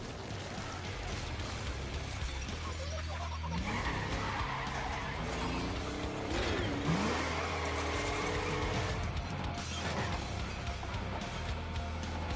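A Cybertruck in a Fortnite video game trailer, its engine revving and tires skidding and squealing in several sweeping slides over a steady music-like bed, with no talking.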